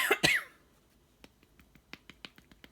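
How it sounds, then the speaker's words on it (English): Two sharp, close coughs in quick succession, followed by quiet scattered clicks and taps. "Do apologise with the coughing"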